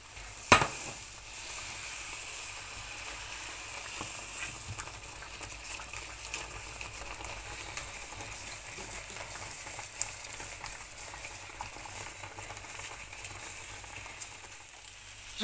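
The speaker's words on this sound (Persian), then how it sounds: "شربتش کم کم باید اضافه کنیم." Syrup being gradually added to a hot pan: a steady, fairly faint sizzle and frying hiss runs throughout, with a sharp clink near the start and occasional light ticks.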